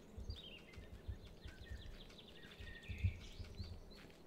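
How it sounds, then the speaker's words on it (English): Birds chirp in the outdoor ambience of the video game The Last Monday, a scatter of faint, thin high calls and trills over a low rumbling background. "birds making a lot of noises"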